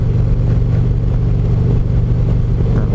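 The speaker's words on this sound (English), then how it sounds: "I know this is idling pretty rough." A motorcycle engine idles roughly on stabilizer-treated fuel, a loud, close, continuous rumble with an uneven pulse throughout and no voices.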